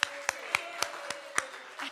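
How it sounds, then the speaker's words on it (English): A few hands clap in thanks to an AV team: about six sharp, evenly spaced claps, faint and somewhat distant, with quiet room tone between them and no talking. "So let's give the AV team a round of applause."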